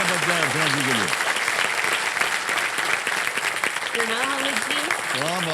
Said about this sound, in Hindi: तालियां बज जाए अर्चना जी के लिए।